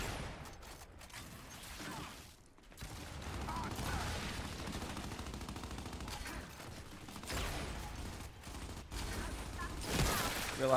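Gunfire rattles through a Gears 5 ranked Control match in sustained bursts, mixed with mechanical clatter and whooshes, with a short drop near the start and louder fire toward the end.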